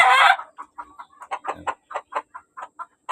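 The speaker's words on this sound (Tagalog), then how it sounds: "Itong mga to, El Gamma Gray half Boston." El Gamma Gray half Boston gamefowl rooster at a game farm: a short loud call, then a run of about a dozen quick, close clucks in an uneven rhythm, with no other sound.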